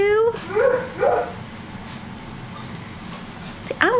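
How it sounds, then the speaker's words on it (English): A dog at an industrial park gives a few rising whimpering yelps near the start and a sharp yip at the end, over a steady low background hum. "Oh, yay, another doggy."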